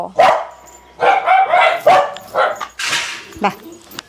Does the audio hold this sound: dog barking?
yes